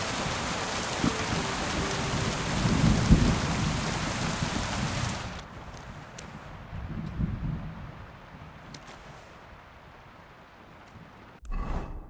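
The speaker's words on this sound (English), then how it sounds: "It'd be better if it wasn't raining around." Steady rain pours down in the medieval world of Kingdom Come: Deliverance 2, with low rumbles of thunder, loud for the first five seconds and then softer and duller under the dialogue.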